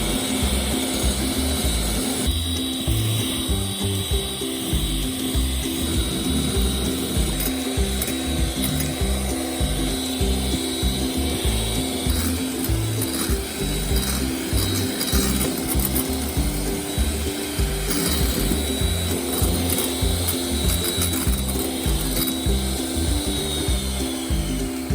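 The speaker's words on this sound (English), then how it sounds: "increase the speed and beat the egg whites until stiff mix" An electric mixer whips egg whites and sugar into stiff meringue, a continuous close mechanical whir with clattering beaters that runs unbroken for the full stretch, with no talking.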